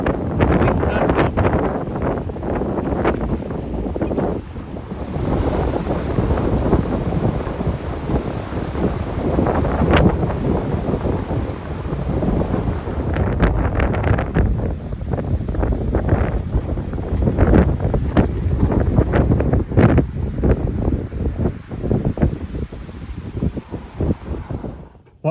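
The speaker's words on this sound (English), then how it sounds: "It was blowing at least 20 miles an hour with the wind in the gorge, and it was cold." Strong, cold wind of roughly 20 miles an hour roars in a gorge at Ross Lake in North Cascades National Park, buffeting the microphone with a loud, continuous, gusting rumble throughout.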